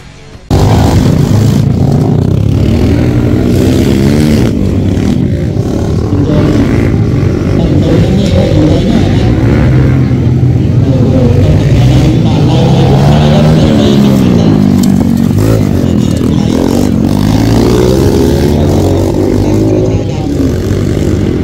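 Honda Wave 125 motorcycles race and overtake one another, engines droning loud and continuous with rising and falling revs throughout, blended with crowd or commentary noise.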